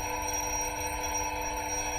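A bell rings continuously inside a glass jar while a vacuum pump draws out the air, giving a steady, muffled, unbroken electric ringing layered over a low pump hum.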